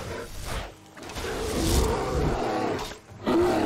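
A bear in the video game Skyrim lets out deep, growling roars in two loud bursts separated by a brief lull, with a rumbling low end and a fresh surge of roaring at the close.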